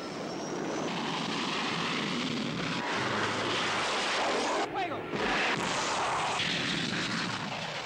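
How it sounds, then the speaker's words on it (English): A small mini-jet aircraft flies in a dense, steady, roaring jet-engine rush that stays loud throughout, with a brief dip midway. Narration runs over the engine noise. "Roger Moore uses the mini-jet in ways no other plane can perform"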